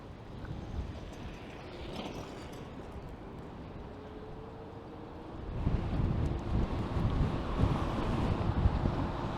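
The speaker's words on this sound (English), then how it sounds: "I'm riding directly into the wind and this thing is struggling" Strong headwind roaring across the microphone on a Segway Ninebot Max electric scooter riding through Toronto streets, a steady loud rush that grows heavier and more buffeting partway through, with no talking.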